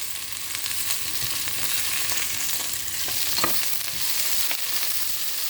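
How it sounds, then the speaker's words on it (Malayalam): Onions sauté in a hot pan for Kerala egg curry, giving a steady, loud, close sizzle with occasional soft stirring scrapes and no voices. "ഇത് നന്നായിട്ട് നമുക്ക് വഴറ്റിയെടുക്കണം."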